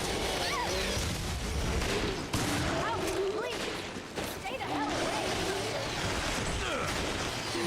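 Gunfire in the survival horror game Resident Evil: Revelations, a dense barrage of repeated shots and clattering impacts running nearly nonstop at steady loudness, with in-game voices and effects layered beneath.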